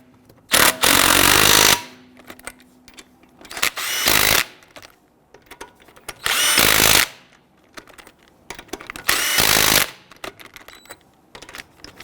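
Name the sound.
power tool snugging down lug nuts on Ford Explorer wheel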